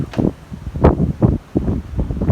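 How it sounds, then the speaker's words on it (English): Strong outdoor wind buffets the microphone in loud, gusty bursts, with rustling between the rough blasts and no talking. "This wind is like super strong."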